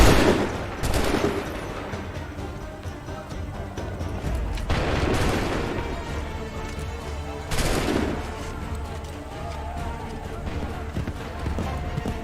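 Musket volleys in Assassin's Creed III ring out as three sharp broadband blasts spaced several seconds apart, loud and near, over a background of hoofbeats, shouted commands and battlefield clamor.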